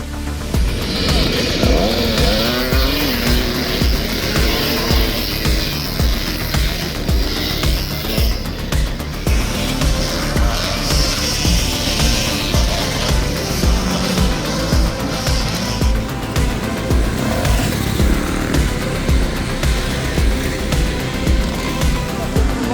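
Motocross motorcycles race at a cross-country track in Corbarieu, engines roaring loudly and continuously with rising and falling revs as bikes pass close by, with no talk.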